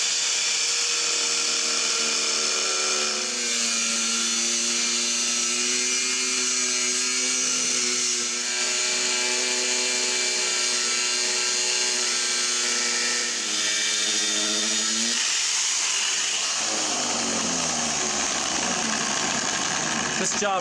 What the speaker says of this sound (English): I'm going to start cutting, and I'm going to cut this lip off